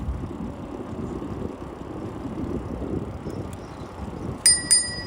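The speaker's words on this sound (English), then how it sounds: "It's a nice bell." Two quick, bright rings of a bicycle bell sound near the end, clear over steady wind noise while riding along the Ocean Parkway bike path in New York City.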